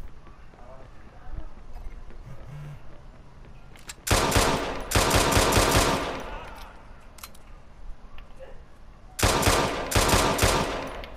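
Gunfire in Watch Dogs 2 during a police pursuit: loud bursts of rapid shots crack in two clusters after a quieter stretch, with a voice talking through the action.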